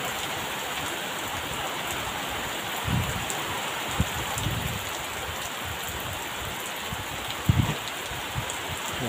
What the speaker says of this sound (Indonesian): sahabat tuh hujan nggak deras sekali